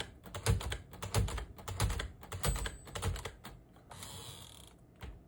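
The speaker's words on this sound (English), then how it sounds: "if you hear the escapement, sounds amazing on this specific machine" Rapid keystrokes on a 1957 Smith-Corona Silent-Super portable typewriter, each strike followed by the crisp click of the escapement, loud and close in an uneven rhythm, ending in a brief softer rattle of the mechanism.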